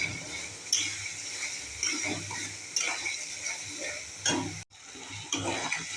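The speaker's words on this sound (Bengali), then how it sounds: "দিয়ে এটা ভালো করে ভাজা ভাজা করে নেব" Green peas with sugar, salt and turmeric fry in a pan, giving a moderate hiss broken by periodic scraping and clattering strokes of the stirring spoon against the metal, heard up close.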